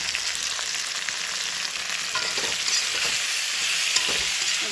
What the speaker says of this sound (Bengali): ভালো করে নুনটা মিশিয়ে ভেজে নেব একটু